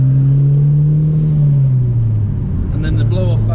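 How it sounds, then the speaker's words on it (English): Mitsubishi Evolution 7 turbo engine droning steadily under load from inside the car, pitch sliding down as the revs change, with a faint whistle and chirp near the end like a turbo spooling and venting. "You can hear the like turbo kicking in at 3,"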